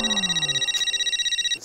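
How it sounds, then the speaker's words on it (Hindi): An indoor telephone rings loudly in a home sitcom scene with a rapid trilling electronic ring, a single burst of under two seconds that ends abruptly. "इसका फोन है अभी।"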